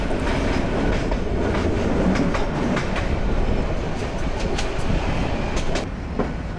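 A train rolls past a level crossing near Chattogram while road traffic waits. The loud, steady rumble and clickety-clack of the wheels runs unbroken for the whole stretch, close by, with no voices.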